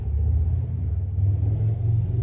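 A motorbike drives past near a car parked for an air conditioning recharge, a loud steady low engine rumble that holds for a couple of seconds with no talk.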